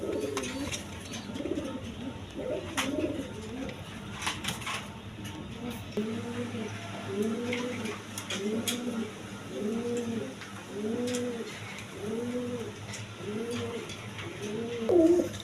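Pigeons coo in a repeated rhythmic series, soft throaty calls close by, with faint rustling and clicks in the background.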